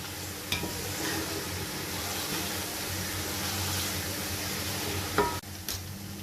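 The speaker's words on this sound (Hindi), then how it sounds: "अब ये मसाला अच्छी तरह भुनेगा।" Masala spices fry in a pan while being stirred, a steady loud sizzle with occasional scrapes and clanks of the spoon against the pan.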